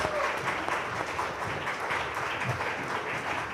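A corporate quiz grand finale audience applauds a champion receiving the trophy, a steady moderate round of clapping from a hall crowd, fairly distant and continuous.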